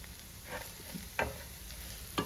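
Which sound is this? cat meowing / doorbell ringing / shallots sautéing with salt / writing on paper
shallots sautéing with salt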